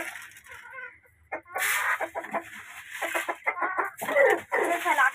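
Chickens clucking close by in a series of short, irregular clucks and squawks, growing busier and louder after a brief quiet start.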